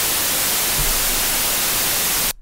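Steady white noise from a test tone plugin in Ableton Live, a loud, even hiss that holds unchanged before cutting off abruptly at the end.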